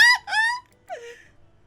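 A voice makes a few quick, squeaky vocal noises imitating hand puppets smacking mouth first into each other, two bursts then a fainter third, alone with no other sound.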